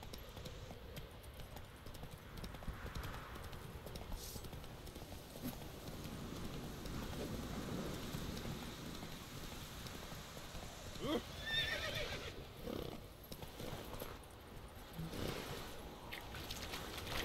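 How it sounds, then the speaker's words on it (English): Horse hooves clop alongside occasional whinnies in The Witcher 3, set against a continuous ambient wash of water and wind, with the horse sounds fairly low in the mix. "Oh, I can bring the horse in the water."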